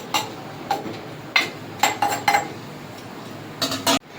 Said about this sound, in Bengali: এবার আমি একটু জল দিয়ে দেবো সসপ্যানটা ধুয়ে